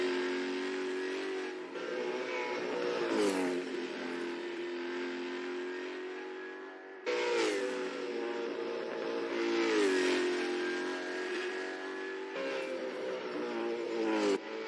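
Supercars roar around a track in a virtual racing game, their engines revving and shifting through gears in repeated rising sweeps, loud and close, with no talk over them.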